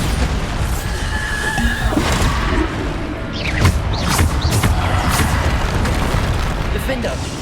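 Bombarda explosion spells go off in Hogwarts Legacy amid combat, with several sharp bursts and booms over a rumbling mix of magical effects and clatter.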